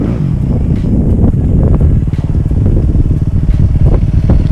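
A Honda CRF250x dirt bike rides on a hill climb, its engine droning steadily and close with a rapid buzzing pulse, rising and falling in pitch, with wind buffeting the microphone throughout.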